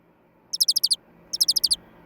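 American goldfinch chirping in two quick bursts of about five bright, high tweets each, separated by a short pause, over a faint low background hum with no voices.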